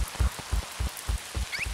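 Cartoon rain patters down in a steady drizzle, with a soft rhythmic low thumping repeating several times a second beneath it, all quiet and without talk.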